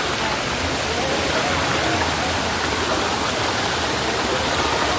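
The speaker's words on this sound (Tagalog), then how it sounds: "Ito yung falls naman eh." Batlag Falls in Tanay, Rizal, pours nearby in a constant, dense hiss and roar, steady and unbroken for several seconds with no talking.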